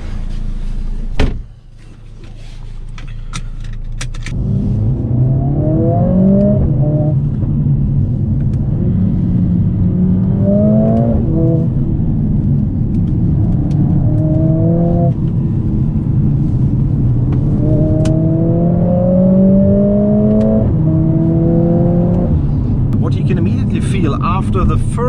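A Mercedes-AMG CLA 45 S engine pulls hard through repeated upshifts on a winding mountain road, each gear rising in pitch then dropping, loud and close, after a door thud and quiet idle at the start.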